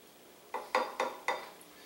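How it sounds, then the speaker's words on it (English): Four sharp metallic clanks in quick succession as a spatula knocks a blender blade around inside the jar while making spicy chipotle ranch dressing, close and distinct with short ringing decay. "Spatula. Just push the blade around with it."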